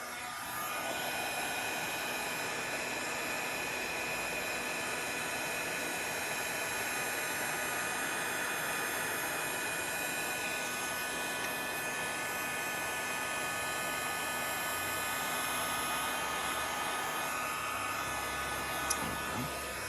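A heat embossing tool blows hot air steadily over a card, a constant close whooshing hum that runs unbroken throughout with no talk.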